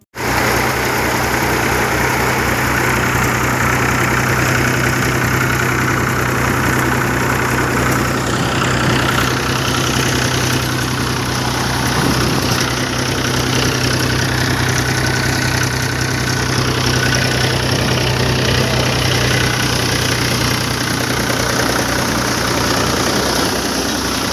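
A Mahindra 275 DI tractor engine running a thresher runs steadily with a constant low rumble and mechanical clatter, loud and close, with no talking throughout.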